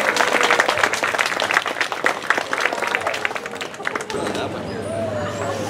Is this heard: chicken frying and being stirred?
no